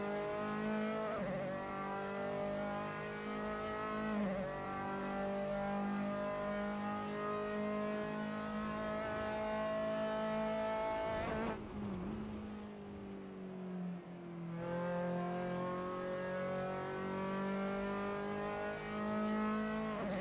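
Formula 3 race cars in Assetto Corsa at Silverstone scream through the gears in a sustained, loud engine note that climbs in pitch with each upshift, dropping sharply around midway before revving up again.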